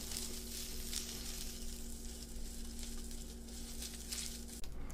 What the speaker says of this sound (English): Alright, get these sizzling.